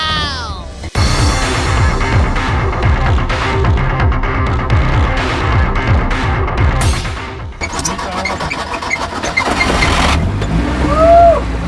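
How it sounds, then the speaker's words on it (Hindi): A homemade monster car fitted with tractor tyres runs close by, its engine throbbing and revving loudly with rhythmic pulses and bursts, while people talk over it. "अब कोई डाउट नहीं है कि जो गाड़ी है वो ट्रैक्टर के टायर से चल सकती है।"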